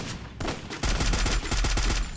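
Rapid bursts of video game gunfire from Free Fire crackle loudly and close, sustained automatic shots in quick succession with a brief gap before a heavier volley.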